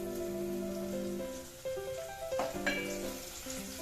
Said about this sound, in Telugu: ఉల్లిపాయలు బాగా ఫ్రై అయ్యాయి